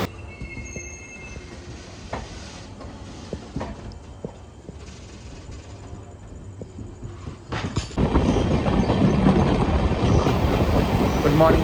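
A Rani Kamlapati–Mysuru summer special express train running, with rail rumble and clatter that swells loud and steady in the second half after a quieter stretch.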